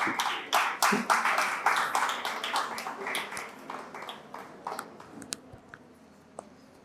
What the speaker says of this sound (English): Please give Oluwa a round of applause.